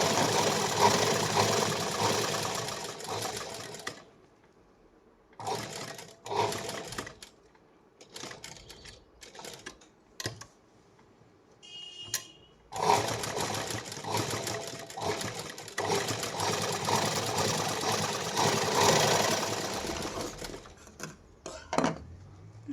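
A sewing machine stitches a patch onto a blouse sleeve, running in several bursts of busy mechanical whirring with short pauses between, close and fairly loud, no talking.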